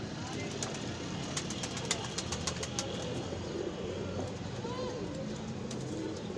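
Teddy pigeons in a Lahore loft coo faintly against a steady hiss of background noise, with voices talking throughout.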